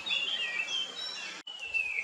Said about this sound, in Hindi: व्हिस्लिंग थ्रस एक खूबसूरत गीत गाने वाला पक्षी है।